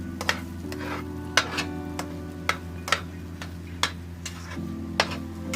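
Semolina halwa sizzles in a pan as it browns, with a steady low frying hiss and sharp stirring scrapes or clinks coming roughly every half second.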